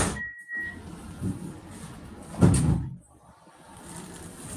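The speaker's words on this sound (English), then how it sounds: "Doors closing." Doors on a Parramatta light rail tram close: a short warning tone sounds, then a sliding door shuts with a brief rumbling thud inside the carriage, with quiet cabin hum around it.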